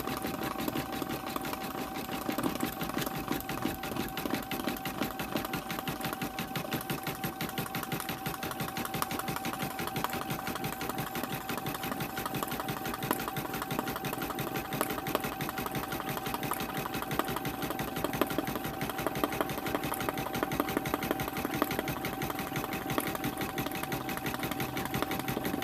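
An embroidery sewing machine stitching an appliqué onto balsam wood hums steadily with fast, even needle rattling, close and constant throughout.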